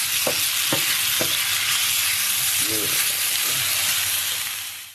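Ground meat frying for bolognese sauce in a pan with onions and oil, a loud continuous sizzle close by with several knocks and scrapes of a paddle breaking it up, fading at the end.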